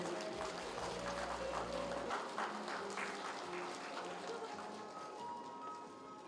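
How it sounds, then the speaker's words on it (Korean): Spectators at a Daegu ceremony marking the 70th anniversary of the Korean War clap for a veteran receiving a medal and flowers, a soft steady patter of applause under background murmur and a low tone. "여러분 축하의 박수 부탁드리겠습니다."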